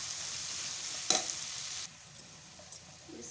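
Macaroni pasta is stirred in a pan, a soft scraping swish with a brief louder stroke over a faint background sizzle; quiet and close.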